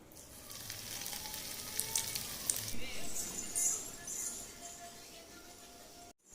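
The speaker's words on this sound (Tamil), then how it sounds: "இப்போ அதை எண்ணெயில் போட்டு ஒவ்வொன்றா பொரிச்சு எடுத்துக்கலாம்." Vermicelli-coated potato nest snacks deep-fry in oil, giving a steady, fairly soft sizzle that crackles brighter in spells and runs throughout, with a sharp noise at the very end.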